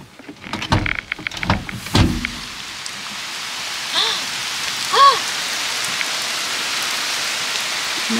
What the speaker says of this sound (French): Mais non, il pleut.